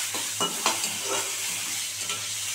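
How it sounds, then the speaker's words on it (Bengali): Potatoes frying in fish oil with black cumin seeds, stirred in the pan, giving a steady close sizzle with a few light scraping strokes. "আলুগুলো ভালো করে ভেজে নেবো"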